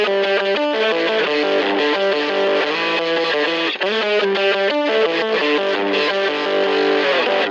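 An electric guitar plays a fast riff through a Line 6 Helix with the amp and distortion pushed, giving a heavily overdriven tone of rapid, choppy notes and chords.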